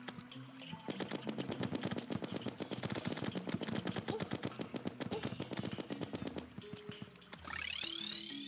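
A rapid barrage of hornet projectiles being fired in the video game Terraria during a Queen Bee fight, a dense rattling stream of quick clicky shots for several seconds, ending with a bright rising magical chime.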